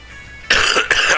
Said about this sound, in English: I know I hate having to clear my throat and stuff while recording